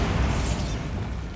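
The Bombarda spell detonates in Hogwarts Legacy, a short burst of noisy blast energy with a rumbling low-end tail, close and loud with no talk.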